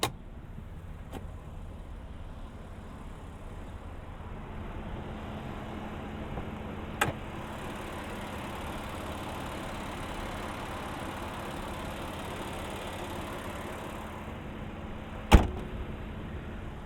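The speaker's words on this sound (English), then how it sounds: "So let's open up the hood." The hood of a 2019 Nissan Pathfinder SL 4WD is opened, heard as two separate sharp clunks of the latch and release several seconds apart against a quiet, low ambient hum.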